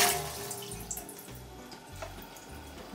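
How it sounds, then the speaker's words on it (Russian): Water runs steadily from a tap into an autoclave before a cooking batch, a continuous near splashing stream with faint dripping and no talk. "Наливаем воду до фальшдна."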